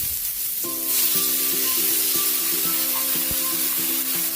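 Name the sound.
water added to hot pan with carrots, sizzling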